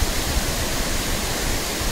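Chirchiri waterfall in Jashpur, Chhattisgarh roars as a steady, dense wash of falling water, loud and close, with no break or variation over two seconds.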